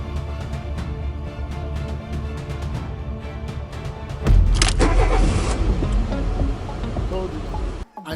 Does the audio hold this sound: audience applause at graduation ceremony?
no